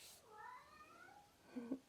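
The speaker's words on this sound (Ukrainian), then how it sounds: "І тепер нявчить" A cat meows softly nearby, a drawn-out call followed by a couple of short, higher mews, quiet against a hushed room during an exercise session.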